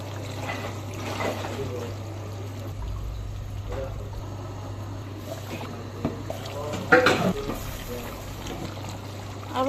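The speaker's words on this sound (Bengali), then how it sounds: "এই পর্যায়ে কিছুটা পানি অ্যাড করব" Water is poured and trickles into a pot of potatoes amid a steady low hum, with a brief louder splash toward the end.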